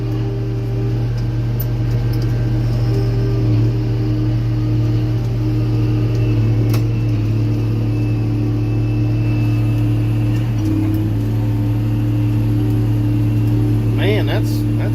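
An IH 3588 tractor backing up in a wet field, its engine droning steadily and loudly close by for the whole stretch, with people talking over it.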